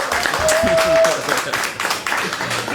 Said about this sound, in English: Please stand up to get a round of applause.